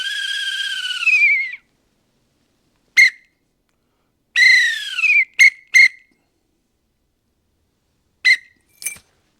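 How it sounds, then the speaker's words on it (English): Series of dogman whistle signals used to direct a crane: a long wavering blast, then short sharp pips and a pair of longer swooping blasts, loud and close with silence between them. "We use a whistle to direct a crane when we need to use our hands."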